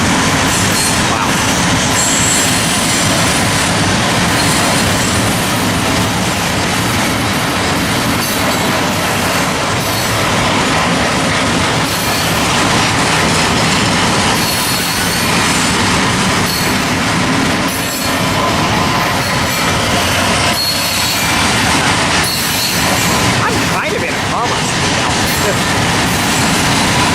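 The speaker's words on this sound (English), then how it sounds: "It was the only angle I could have gotten of this train safely." Freight train rolling past near Fullerton, loud and close, with a continuous roar of wagons, rhythmic wheel clatter and metallic wheel squeals rising over the din throughout.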